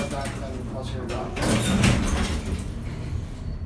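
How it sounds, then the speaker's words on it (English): A vintage Haughton traction elevator's faulty door slides open partway and rolls back with a mechanical rumble and clunk, under steady machine noise in an apartment building at 3500 5th Ave in Pittsburgh; a person talks over it. "the door doesn't open all the way, then it goes back"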